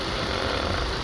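A 1988 BMW M6 with a 3.5-liter twin-cam six-cylinder engine idles in a steady, even drone, loud and continuous with no voices.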